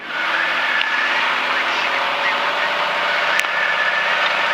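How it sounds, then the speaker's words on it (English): A Cirrus light aircraft's engine revs up as it powers for takeoff on runway 26 at Stanthorpe, a loud, steady droning roar heard from inside the cabin. "Feet off the brakes, give it a little bit of power."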